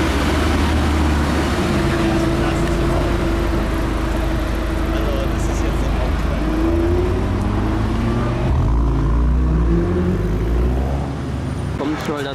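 A car drives past on a road during carspotting, its engine rumbling loud and close amid steady traffic noise, with people talking throughout.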